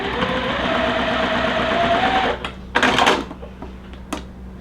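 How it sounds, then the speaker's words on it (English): A sewing machine runs steadily while stitching the remaining two corners of a quilt block, then stops, leaving a few clicks and fabric handling sounds close at hand. "Now we're gonna sew the other 2 corners."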